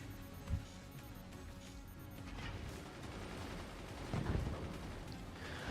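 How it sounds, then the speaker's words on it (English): In a strategy video game, machine guns fire at incoming mortar shells: faint, distant rattling gunfire runs steadily underneath, broken by a couple of heavier low thumps near the start and toward the end. "Machine gunners successfully taking mortars out of the sky."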